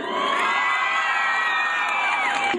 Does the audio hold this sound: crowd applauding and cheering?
yes